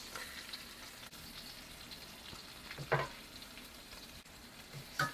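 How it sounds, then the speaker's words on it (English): Seasoning burning and sizzling in a very hot pot while cooking Jamaican curry oxtail, a steady crackling fry with a couple of brief louder spits, close and without talk. "we now turn up the stove too high to burn the seasoning in the pot"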